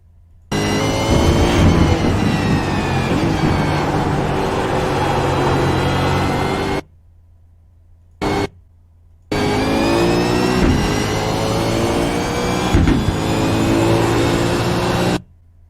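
A V8 Supercar engine in the iRacing game screams around Phillip Island circuit, loud and close, with rising revs and sharp gear changes, cutting out briefly mid-run before roaring back under hard acceleration.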